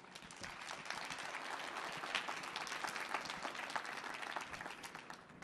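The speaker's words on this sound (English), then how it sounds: "I feel free to give a round of applause for the short documentary." Audience applause at a youth foundation performance on the Millennium Stage, a steady wash of many hands clapping that swells slightly and holds, fairly distant and soft, with no speech over it.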